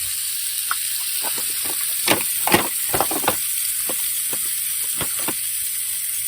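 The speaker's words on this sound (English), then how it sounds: "We're just going to get that sizzling." Meat sizzles steadily on a hot Blackstone griddle, a constant hiss broken by scattered scraping and tapping of a utensil.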